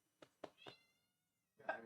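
A cat meows softly several times in quick succession, then gives one louder, drawn-out meow after a short pause.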